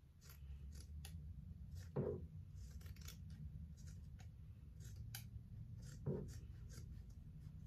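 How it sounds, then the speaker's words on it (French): Scissors snip through excess zipper tape and fabric on a patchwork pouch, with a couple of distinct close cuts amid quiet handling noise and no talking. "On coupe tout l'excédent de fermeture éclair."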